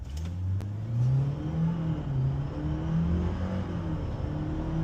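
A GWM Cannon pickup accelerates hard from a standstill, its engine note rising steadily through the gears in a loud, continuous revving drone recorded from inside the cab.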